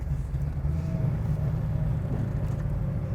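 A 1967 Ford Mustang S-Code convertible's V8 rumbles steadily from inside the car while driving on a road with a semi truck and oncoming traffic, a continuous loud low drone with no talking.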